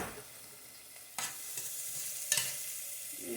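Chopped shallots sizzle steadily in a hot pan, a constant frying hiss broken by two sharp stirring scrapes, with no voices.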